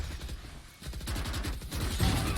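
Gunfire in a Valorant esports match: a short run of rapid sharp shots grows denser and louder after a brief lull, with a final strong burst near the end.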